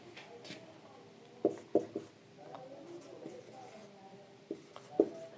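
Marker or chalk taps and scratches on a board during a respiration lesson, coming in irregular clusters of short clicks, close and moderately loud over a quiet room, with faint voice traces.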